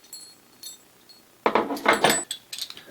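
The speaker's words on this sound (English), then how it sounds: "this is just a bunch of washers that fit on the outside of the pipe and then a nut that goes on the end" Small metal washers and a nut for a motorcycle swingarm bearing install clink and jangle together in a short close burst of handling, after a quiet start.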